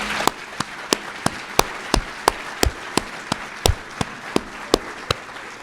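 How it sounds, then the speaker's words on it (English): Applause at a state bar association's annual meeting convocation, heard as a steady series of sharp, evenly spaced claps, roughly three per second, standing out clearly over a low room hum with no talk. "now let's give them a round of applause."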